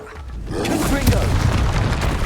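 A Confringo fire spell blast in Hogwarts Legacy, a deep booming roar that swells in and rumbles on loudly for about two seconds amid layered combat effects.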